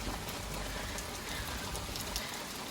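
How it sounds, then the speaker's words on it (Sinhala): Light rain falls at Mandaramnuwara, a steady soft hiss of drizzle on the surroundings, continuous and even, with no talking. "පොඩි වැස්සක් අහු වුණා"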